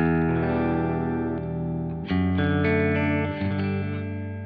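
A sustained electric guitar chord rings clean and full, then a few more notes are struck, bright and steady with a touch of shimmer.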